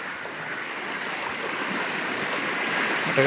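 Sea water washes and swirls up onto the beach at Dharmadam, a steady rushing hiss building slightly louder toward the end, with wind in the background.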